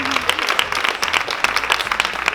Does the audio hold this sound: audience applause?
yes